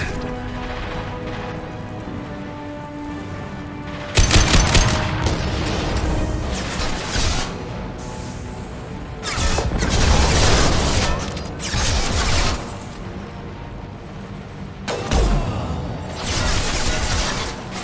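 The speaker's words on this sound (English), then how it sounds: "Firing a high-impact shot." Gunfire and heavy high-impact shots in the Mass Effect 2 video game, with bursts of loud blasts and crashes breaking out repeatedly between quieter stretches of mechanical background noise.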